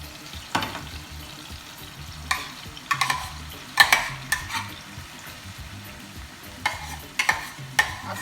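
Saltfish fries in a pan for Jamaican callaloo and saltfish, a steady soft sizzle under repeated scraping stirs, close up with no talking.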